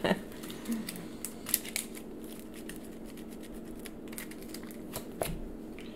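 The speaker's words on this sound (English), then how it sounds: "Shuffle, shuffle, shuffle." Gloomhaven board game cards are shuffled by hand close by, with a run of papery riffles and light flicks, loudest at the start, continuing quietly over a faint room hum.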